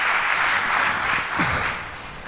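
A church congregation claps together in steady, dense applause, loud and sustained before easing off slightly at the end.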